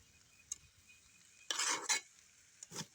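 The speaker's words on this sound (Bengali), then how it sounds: "এখন গোস্তটা একটু মানে ছোট ছোট করে টুকরা করে নিব" Chicken meat being cut into small pieces for a potato stir-fry: a faint clink, then a louder scraping double burst of knife work, and a short final scrape over a quiet background.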